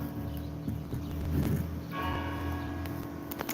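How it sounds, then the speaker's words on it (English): Church bells ring steadily with sustained, overlapping tones, mid-distance and fairly loud, and no voices are heard. "Church bells."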